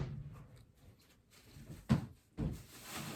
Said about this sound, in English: Grandpa, you hear me knocking?